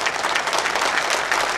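Loud, dense applause from a crowd at the Karad Urban Bank centenary celebration, continuous and even, with many hands clapping close together and no voices.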